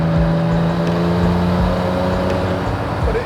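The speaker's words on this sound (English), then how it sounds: "You get a lot of noise from the flywheel." Donkervoort P24 RS supercar's industrial-sounding V6 engine with flywheel whir, a steady, loud mechanical drone with throbbing pulses heard from inside the car.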